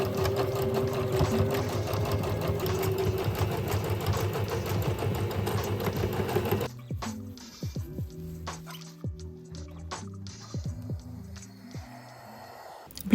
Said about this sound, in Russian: Прострачиваю двойной иглой.